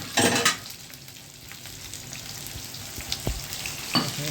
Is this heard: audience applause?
no